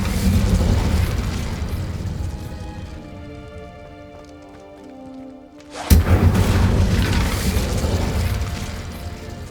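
An Incendio fire spell blast in Hogwarts Legacy bursts out suddenly and loudly with a booming whoosh after a quieter, musical stretch, then rumbles on as a sustained roar.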